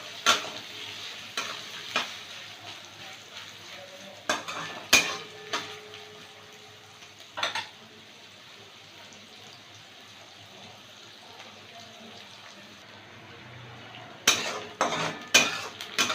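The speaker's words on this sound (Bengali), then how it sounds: "পেঁয়াজটা ভাজা হয়ে গেছে" Chopped onions fry in a pan for a katla fish curry. A low, continuous sizzle runs under sharp spatula scrapes and clanks against the pan, which come in bursts near the start and the end.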